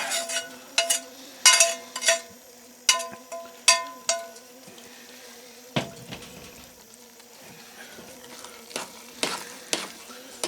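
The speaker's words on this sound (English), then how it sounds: "Going to mix these together." Food stirred together in a pan with oil, barley pilaf at a basecamp, sharp rhythmic spoon scrapes over a continuous sizzle, close and clear, slowing to a few later strokes.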